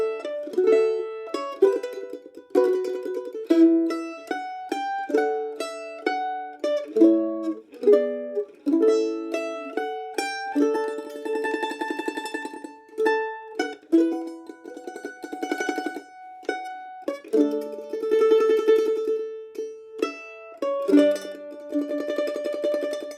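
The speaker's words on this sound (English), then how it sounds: "we'll add the chords to the melody and try and keep the tremolo going at the same time" A mandolin plays a chord-melody arrangement of Nessun Dorma, keeping a steady tremolo on sustained notes while chords ring beneath the melody; clear, close and alone, with no voices.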